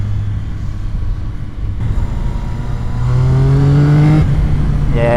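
A Yamaha R9 motorcycle accelerating out of a corner on a street ride, its engine note rising steadily in pitch and getting louder toward the end, heard close up without talk.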